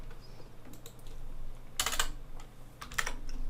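Keys clatter on a computer keyboard as shortcut combinations are pressed, several quick clustered taps over a steady low hum, close and moderately loud with no talking.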